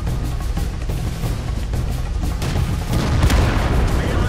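An IS-3 heavy tank's cannon fires and knocks out a T-32 in World of Tanks, a deep booming blast over a steady loud battlefield rumble that swells toward the end.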